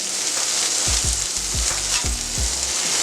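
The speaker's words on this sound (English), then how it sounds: "we're going to let the burgers cook on one side, develop that crust, and we're going to turn them over" Burgers fry on a steel griddle with a dense, steady sizzle, and a few low, clunky thumps and scrapes come close in the foreground.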